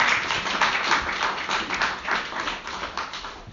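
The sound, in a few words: audience applause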